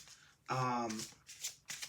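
Tarot cards are shuffled close by in short riffling bursts, with a voice speaking over them.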